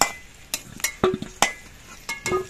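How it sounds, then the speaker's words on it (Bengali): Fried potatoes are lifted out of hot oil with a metal utensil, giving scattered close clinks and scrapes against the pan with faint sizzling between them, no voices. "এবার আলুগুলোকে আমি তুলে রাখছি।"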